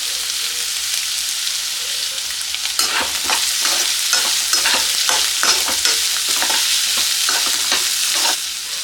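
Finely chopped medium onions fry with dried chillies and curry leaves, a steady sizzle from the pan broken by repeated scraping stir strokes in the second half.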